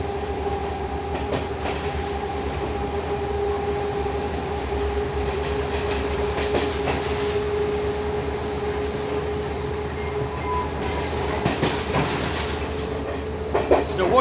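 Passenger train on the Colombo to Kandy line rolling steadily along the rails, a continuous close rumble with sustained tonal hums and occasional rattles and squeaks from the carriage, no talking.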